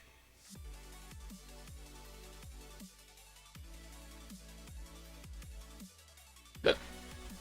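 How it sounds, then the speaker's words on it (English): A single abrupt hiccup cuts in near the end over quiet background music with a steady, repeating beat. "Hiccup."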